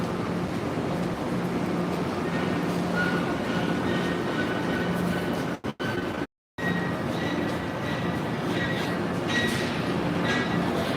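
A train rumbling steadily close by with a constant roar and faint wheel squeal, broken by a few brief dropouts.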